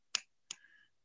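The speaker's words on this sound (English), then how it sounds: "Snapping. Okay, finger snapping." Two crisp finger snaps about a third of a second apart, close and fairly quiet, made at a poetry reading in place of applause in an otherwise silent room.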